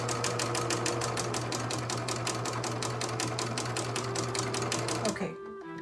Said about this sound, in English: I'm going to stay stitch here, secure stitch